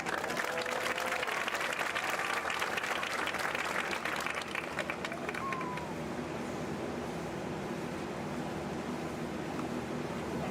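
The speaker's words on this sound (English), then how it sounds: "give Miss Jo a round of applause" Steady audience applause in a high school graduation hall for a piano player, dense and sustained for several seconds before thinning into scattered claps and room murmur.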